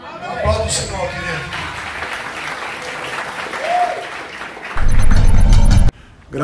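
A church congregation claps for the Lord at a healing service, with applause starting under talk and swelling loud and dense near the end before cutting off abruptly.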